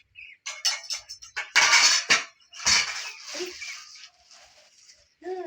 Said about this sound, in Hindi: ये देखें 2 प्लेट्स ली हैं और ये चावलों का चम्मच है, स्पून